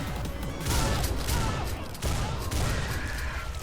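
Shotgun gunfire in the video game BUTCHER: loud, dense bursts of blasts and crashing impacts stacked closely together throughout, with little space between shots.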